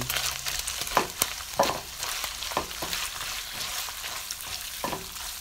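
Onion is stir-fried together with sliced beef and vegetables in a hot pan, giving a steady close sizzle broken by scraping stirs and occasional louder spatters.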